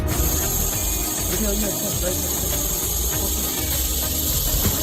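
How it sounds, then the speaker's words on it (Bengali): A Russell's viper gives a loud, steady hiss, sharp like a pressure cooker whistle. The hiss runs continuously and close for several seconds with little change in level. "এটি বিরক্ত বোধ করলে জোরে জোরে হিসির শব্দ করতে থাকে সহজভাবে বলতে গেলে প্রেশার কুকারের সিটির মতো"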